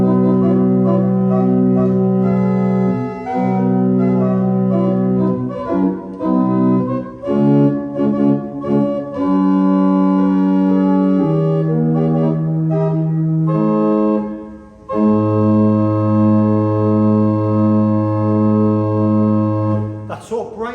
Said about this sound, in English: is an 8-foot open diapason